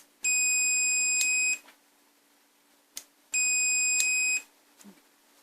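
Two steady high-pitched electronic beeps from a multimeter in diode mode, testing a relay in a Winix DHB109 dehumidifier that will not power on, each lasting about a second, separated by a short pause, with faint clicks in between.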